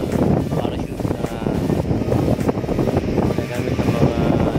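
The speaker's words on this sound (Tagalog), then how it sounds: "Dito nga guys, kasi napakalakas ng hangin dito." Strong wind buffeting on the beach at Bulabog, Boracay, a steady loud roar of gusts hitting the microphone throughout, with a continuous low rumble and no pauses.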